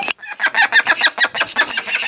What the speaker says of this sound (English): Is she warning you about Ed? She seems to get very vocal when he comes up.